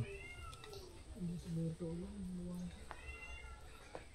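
A cat meows several times in a row, close by, with faint background noise and some quieter chatter around it.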